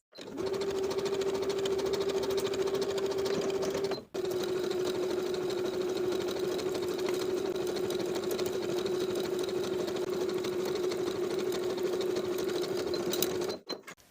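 A sewing machine hums steadily through long runs of narrow zigzag stitching on swimsuit shoulder and side seams, close and continuous with one brief stop near the start and no talk.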